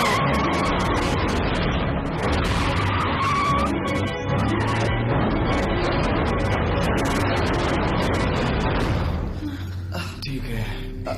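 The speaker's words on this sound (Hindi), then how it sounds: "अब जल्दी से गाड़ी स्टार्ट कर।" Car in a Power Rangers Dino Thunder episode starting and speeding away, loud roaring engine with screeching, skidding tires for several seconds before fading, voices mixed in.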